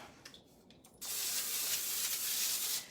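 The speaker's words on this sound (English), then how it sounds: "Now on this tray, I'm going to spray it." After a few soft clicks, a cooking spray can releases a steady hissing spray onto a baking tray for about two seconds, then stops.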